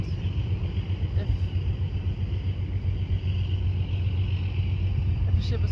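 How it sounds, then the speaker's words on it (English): A ship passing on the River Rhine, heard from the shore as a low steady engine rumble in the distance, faint and continuous. "Just hear a ship crossing because I'm sitting at the River Rhine, at the shore"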